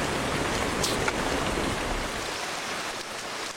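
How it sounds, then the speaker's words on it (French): Steady rain pours on Tofua island, a dense, even hiss of falling water that fills the air without pause, fairly close. "Sur Tofua, il pleut presque tous les jours."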